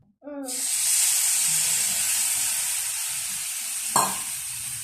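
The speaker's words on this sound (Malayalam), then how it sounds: "പുളിവെള്ളം ഒഴിക്കുക കുറച്ച്." Tamarind water is poured into anchovy masala frying in a pan. It sets off an instant loud hissing sizzle that holds steady for several seconds, with a brief clatter near the end.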